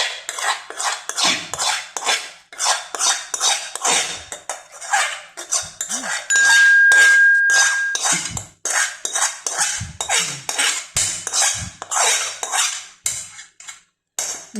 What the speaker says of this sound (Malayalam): ഇനി നമുക്ക് തയ്യാറാക്കി വെച്ച മസാലയിലേക്ക് നൂഡിൽസ് വേവിച്ചതും ഇട്ട് നല്ലപോലെ ഇളക്കി കൊടുക്കാം.